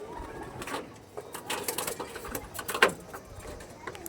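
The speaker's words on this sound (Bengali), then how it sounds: "দেখেন প্রচুর ছটপটে পায়রা" Pigeons coo nearby in short overlapping bursts, with one louder call standing out near the end over a soft background.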